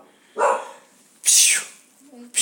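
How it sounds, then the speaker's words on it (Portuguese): A new pet dog barks indoors in two loud, close yaps, followed by a brief whimper and the start of another bark. "eu tô com um cachorro novo aqui"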